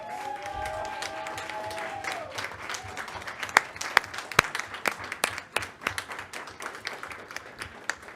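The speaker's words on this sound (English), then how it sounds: "so that we can all give you a round of applause" School principals at a district governing board meeting receive applause from the audience: steady clapping from a room of people, with sharper individual claps standing out, continuing throughout with a brief voice early on.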